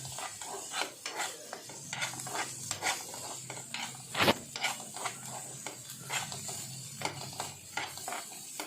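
A spoon stirs green peas into upma in a pan: repeated scraping and rasping strokes in an uneven rhythm, with a soft sizzle beneath and one louder clank near the middle.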